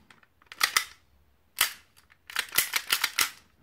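A WE Mauser M712 airsoft gas blowback pistol fires in sharp, snappy cracks with a metallic clack of the slide, a pair of shots, a lone shot, then a quick burst of about six rapid shots, close and loud.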